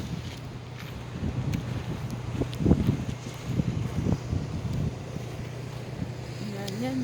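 Strong blizzard wind in Regina, Saskatchewan buffets the microphone in rough, surging gusts while people talk briefly nearby.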